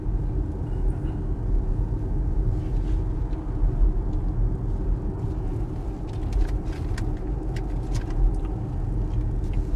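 An Audi e-tron 55 electric car accelerates hard toward a roundabout, heard from inside as a steady low road and tyre rumble with a faint whine, holding even throughout.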